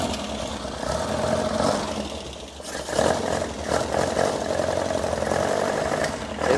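A Westfield kit car engine, carburettors freshly primed, turns over and settles into a steady, fairly loud idle, with a slight dip and catch around the middle before running on evenly, no talking.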